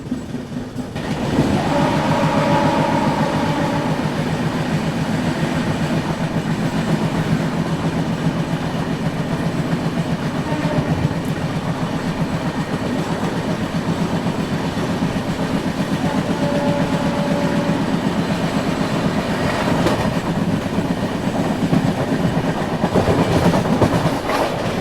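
A Mumbai-Ahmedabad double-decker express train rolls steadily away from Vadodara Junction, a loud continuous rumble with rhythmic clickety-clack of wheels over rail joints and a faint whine at moments, no voices.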